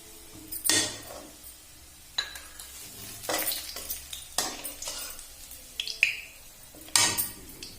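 Marinated chicken added to a kadai after frying beresta for morog polao, then stirred: intermittent spoon scrapes and clinks against the pan over a quiet sizzle, in several irregular bursts.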